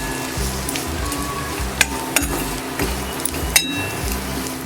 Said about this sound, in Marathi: 2 चमचे आपण मालवणी मसाला घालून घेऊया आणि व्यवस्थित मसाला मिक्स करून घेऊया.